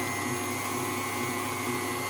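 An electric mixer whips cream with sugar, giving a steady, loud, even whir with no breaks and no talking.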